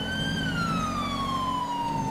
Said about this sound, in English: Let's get that siren back on.